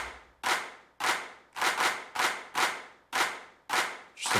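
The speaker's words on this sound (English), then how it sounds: "Just some kind of electro clap." An electro clap from a distorted, gritty track hits eight times in an even, loud rhythm. Each sharp burst fades quickly, and nobody talks over it.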